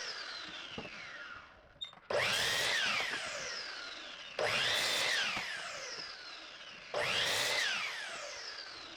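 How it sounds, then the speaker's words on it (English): A saw cuts miters in a 1x4 board set against a stop block, with three loud, close whines of about two seconds each, separated by short pauses and softer handling noise. "Cut the first miter, butt it against the stop block without flipping the board, and cut, repeating 4 times."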